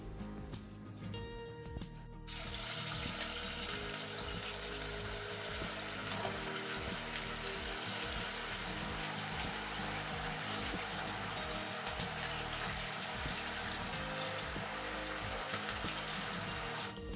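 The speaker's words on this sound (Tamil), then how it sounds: "இப்போ இதை ஆயிலில் போட்டு பொரிச்சு எடுக்கலாம்." Aval bonda balls of rolled flattened rice sputter in a pan of hot oil, a dense continuous crackle and sizzle starting after a quiet moment and holding steady and loud throughout, with no talking.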